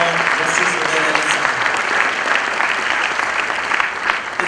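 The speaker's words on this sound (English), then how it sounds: "Please put a lot of applause for Justice Uday Lalit" Audience applause for an honoured guest at a law school event, dense continuous clapping from a large crowd, loud and steady throughout.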